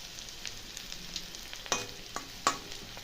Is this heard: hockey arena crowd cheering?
no